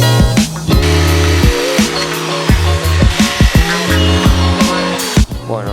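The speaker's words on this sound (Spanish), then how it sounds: "luego usaré una broca más grande ya para hacer el agujero" A power drill with a larger bit bores a hole while a Shin-yo LED mini rear light is being installed, the motor whining in repeated bursts that rise, hold and stop, loud and close.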